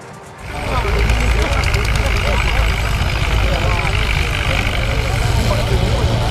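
Tractor engines, a New Holland T7.260 and a Deutz Fahr Agrotron 200, rise from near quiet into a loud, continuous roar at a tractor-versus-tractor pull, with voices talking over the engine noise.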